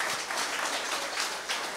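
Audience applause at a Women's Day concert, a brief burst of thick, continuous clapping filling the room at a steady level throughout.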